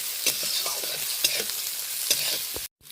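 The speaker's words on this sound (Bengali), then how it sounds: "ফোড়নের সাথে কাঁচা লঙ্কা পেঁয়াজটা দিয়ে বেশ ভালো করে 2 মিনিট মতো নেড়ে নেব।" Green chillies and onion stir-fry in tempering oil with a dense, continuous sizzle, punctuated by a few utensil scrapes before a brief cutoff at the end.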